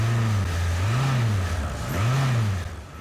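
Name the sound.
car engines revving on test stands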